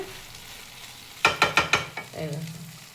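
Spicy vermicelli with vegetables is stirred in a pan: a quick run of four or five sharp scraping strokes over a low sizzle, followed by a brief voice.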